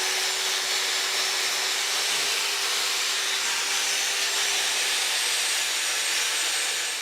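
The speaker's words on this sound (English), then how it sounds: "the sliding jaw is wire wheeled with a big angle grinder" A big angle grinder with a wire wheel works the rusty sliding jaw of a vise, giving a loud, continuous rushing whir with a steady tone, close and unbroken throughout.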